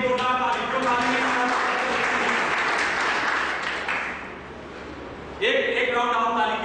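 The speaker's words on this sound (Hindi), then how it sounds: "एक राउंड आप ताली" Seminar attendees at a teaching-skills training session break into a sustained round of clapping that swells, fades briefly and resumes, with a voice speaking at the start and again near the end.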